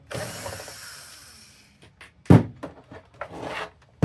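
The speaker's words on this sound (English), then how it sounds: "I'm gonna take out these two screws here" A screwdriver turns out screws from a PS5 console, giving a series of short ratcheting clicks and scrapes close up, preceded by a brief hiss of brushing or vacuuming.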